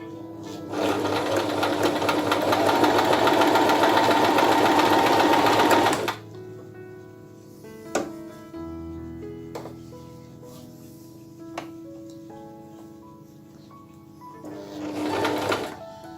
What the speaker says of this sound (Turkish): Şimdi ikinci kalınlıktaki dikişimizi deniyoruz.